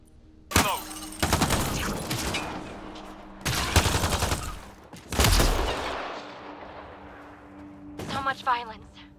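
Sniper rifle shots in Mass Effect Andromeda, several loud separate blasts, each with a long rumbling tail, spaced a second or two apart, and voices talking between them.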